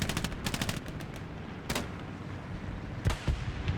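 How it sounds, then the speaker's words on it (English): Explosions and gunfire from a bombing run in a competitive video game match, with several sharp broadband blasts and bursts of rapid shots over steady low battle noise. "And while everyone is not paying attention, a bombing run."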